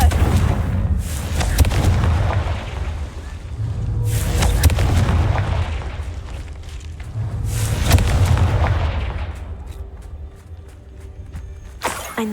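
Confringo blasting spell explosions in Hogwarts Legacy, several loud booming blasts with rumbling tails, a couple of big bursts a few seconds apart followed by a sharp final crack, with no speech over them.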